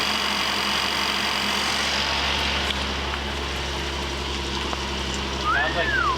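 A flood-damaged car engine with a vacuum leak idles steadily at close range, a constant low hum and hiss, with a faint chirp near the end.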